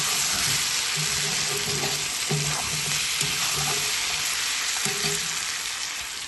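Chicken meat cooking in a pot with added water gives a loud, continuous bubbling hiss, with faint clinks and background sounds scattered through it.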